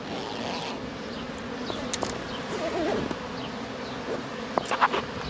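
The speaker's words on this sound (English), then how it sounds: "This is full of bees." A dense, steady buzz of many bees swarming close by during a honey harvest in New Zealand, with occasional louder passes and faint clicks near the end.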